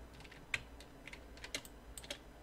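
Computer keyboard keys tapped for shortcuts while drawing in Illustrator, a sparse run of about eight light, crisp clicks close by, irregularly spaced with quiet gaps and no talking.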